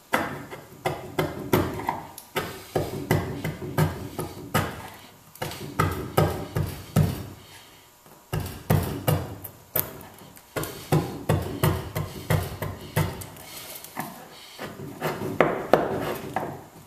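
Chisel work on hardened epoxy around a Dutchman repair on a 1946 Chris Craft Brightside U22 wooden boat: a steady run of sharp, close tapping and scraping strikes in bursts, with brief pauses between.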